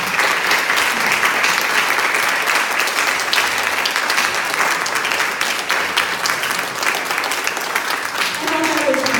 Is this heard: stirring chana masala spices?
no